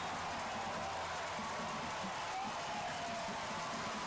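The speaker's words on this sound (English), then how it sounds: "Listen to this crowd." A crowd at a high school football game between Denton Ryan and Aledo keeps up a distant, faint, continuous roar of cheering and applause after a fumble.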